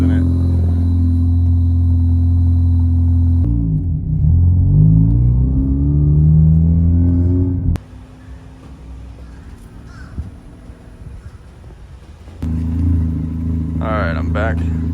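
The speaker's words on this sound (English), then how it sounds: "I should probably take this car to the gas station real quick" A roadster's engine rumbles loudly and close, with a deep, steady idle that shifts pitch as the car moves off. It drops to a quieter running hum midway, then the strong rumble returns near the end.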